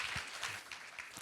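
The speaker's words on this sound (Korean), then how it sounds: "큰 박수로 맞아주세요" Audience applause at a startup ecosystem conference, welcoming a law-firm speaker to the stage: a brief, steady wash of clapping from a crowd that fills the whole moment.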